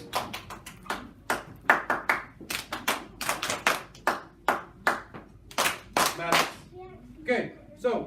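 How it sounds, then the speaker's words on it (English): A first-grade classroom claps in scattered, uneven bursts, individual hand claps popping close and distinct rather than merging into a wash, with a few voices breaking in toward the end. "All right, give them a round of applause."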